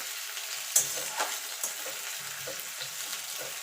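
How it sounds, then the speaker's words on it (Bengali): Onions frying in hot oil for Bengali kumro bhorta, a steady soft sizzle with occasional stirring scrapes close by, no voices. "পেঁয়াজটাকে লাল লাল করে ভেজে নেব।"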